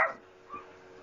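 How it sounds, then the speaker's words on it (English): Dogs barking in the background of a home, a loud bark burst at the start followed by a fainter yip about half a second later, with no one talking over them. "Dogs barking in the background."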